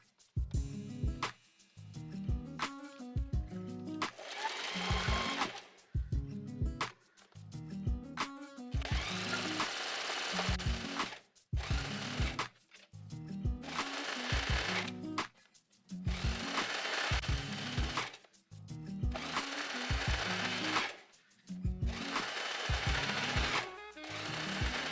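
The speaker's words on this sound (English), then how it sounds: "you need to fold the elastic inwards, and then you're gonna do another zigzag stitch on top" Sewing machine zigzag stitching folded elastic on a homemade surf suit, loud close bursts of rapid mechanical stitching separated by brief pauses, repeated many times.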